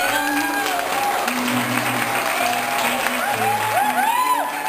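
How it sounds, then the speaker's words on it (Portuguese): A warm round of applause from a crowd at a school gathering honoring children and teachers, steady clapping mixed with excited voices and high-pitched calls over the top. "Vamos esperar todos para uma salva de palmas bem calorosa para eles."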